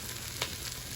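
Food browning in a pressure cooker for Louisiana-style red beans gives off a steady, close, hissing sizzle with one small pop. It is brief, with no voices.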